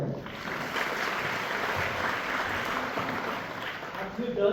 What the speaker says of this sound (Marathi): भूषण सगळ्यांनी टाळ्या वाजवायच्या